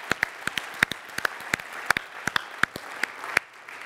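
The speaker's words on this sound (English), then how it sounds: "So a big round of applause for all those folks that helped us." Sparse, distinct hand claps from a conference audience thanking event helpers, a steady scattering of individual sharp claps over a low room murmur.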